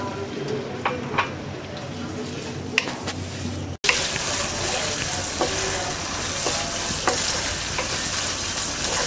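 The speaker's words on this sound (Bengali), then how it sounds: "অল্প একটু পানি দিয়ে শুটকিটাকে আমরা 2-3 মিনিট কষিয়ে নেব।" Dried loitta and chapa fish sauté in a pan with a little water. A quieter stir and scrape abruptly gives way to louder, steady sizzling and bubbling, with occasional clinks of the spoon.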